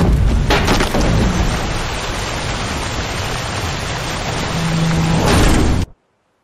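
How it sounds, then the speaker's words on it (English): A loud thunderstorm with heavy rain pours in a dense, constant roar, swelling slightly near the end before cutting off abruptly. "Didn't bargain for no storm."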